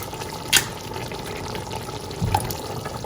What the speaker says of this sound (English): when I pour this in, then I pour water and rinse out my